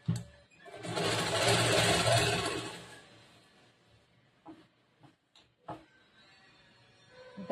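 A sewing machine stitches the lining of a back boat-neck blouse with tie-string doris, running in one loud, steady burst for about two seconds before falling to quieter intermittent handling and short clicks.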